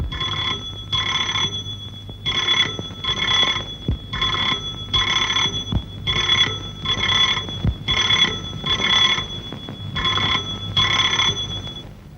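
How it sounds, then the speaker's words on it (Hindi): An old landline telephone bell in a vintage Hindi film rings in repeated double bursts, loud and close, steady and insistent for about twelve seconds with no voices. "ये 10वीं बार रूप का टेलीफोन आया है,"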